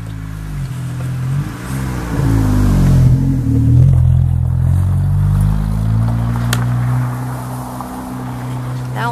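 A young child plays with a toy car nearby, with a rising and falling engine-like revving that sounds like a voice imitating a motor, over a low indoor hum.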